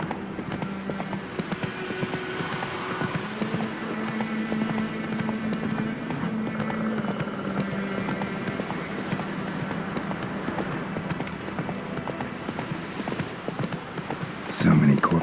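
Roach, a horse in The Witcher 3, gallops with a steady run of hoofbeats that carries through the whole stretch over a dense wash of game music and ambience.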